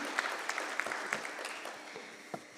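Scattered applause from a modest conference audience, individual claps distinct and fairly quiet, tapering off after a couple of seconds.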